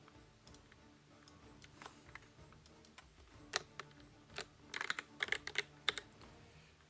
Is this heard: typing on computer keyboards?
yes